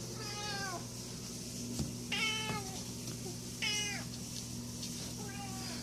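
A house cat meowing indoors, four or five short, clear meows spaced a second or so apart over a low steady background hum.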